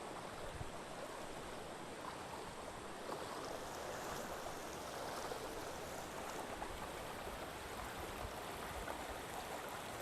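Steady flowing water of the Priest River in late August, a broad, even rush heard close and continuous with no voices.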